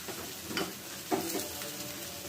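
Red chili powder and spices sizzle in hot oil while khichuri cooks, a soft steady frying hiss broken by two brief stirring scrapes, close and quiet with no talk.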